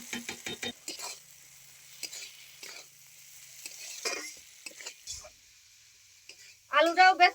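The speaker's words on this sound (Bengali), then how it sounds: "এবার আমি দিয়ে দিচ্ছি ভেজে রাখা আলু" Fried potatoes go into a pan of spice masala that has been cooked down until the oil separates, for a catla fish-head chorchori. Soft sizzling and several stirring, scraping strokes follow, with a louder clatter of stirring near the end.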